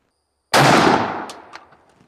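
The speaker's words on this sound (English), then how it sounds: "number 6 TSS from Fowl Forged. We're going to shoot it through the improved modified 705 choke" A single loud shotgun blast firing a Fowl Forged number 6 TSS load through an improved modified choke, sharp onset with a ringing tail and faint echoes decaying over about a second and a half, no voices.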